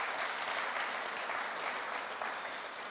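Audience applause fills a large gathering at a church vision event, a steady dense wash of clapping that stays loud throughout and eases slightly toward the end, with no talk over it.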